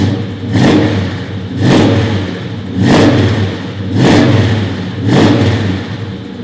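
A 1970 Chevrolet Chevelle SS396 V8 revving repeatedly, five loud swelling blips roughly a second apart rising from a rumbling idle and falling back, heard up close with no talk.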